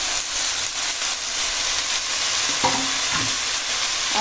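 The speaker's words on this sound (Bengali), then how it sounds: "এখন এই দিয়ে দেবো কেটে রাখা শাক" Chopped leafy greens frying in a pan over a tempering of onion, green chili and garlic, giving a steady loud hiss with a brief clatter of stirring partway through.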